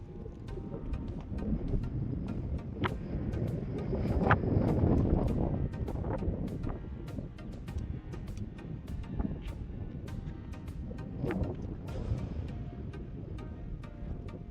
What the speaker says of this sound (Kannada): ಸೊ ಅಷ್ಟು ಗಾಳಿ ಬೀಸ್ತಾ ಇರುತ್ತೆ